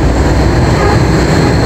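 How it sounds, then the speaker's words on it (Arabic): Cairo's new monorail train rolls past near Arab League Street in Dokki, giving a loud, steady rumble of wheels on rail that fills the whole stretch with no talking. "المونوريل الجديد، قطار المونوريل الجديد"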